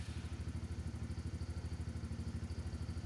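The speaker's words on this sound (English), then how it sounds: "start the engine to verify proper operation" A Polaris Outlaw 70 ATV's small engine running at a fast, even idle, with a rapid pulsing chug and light mechanical clatter, close by and steady with no talking.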